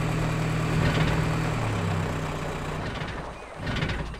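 A jeep engine idles with a steady low rumble and a faint hum, settling slightly quieter toward the end as it runs alone without talk.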